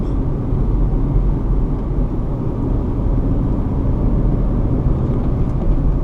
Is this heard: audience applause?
no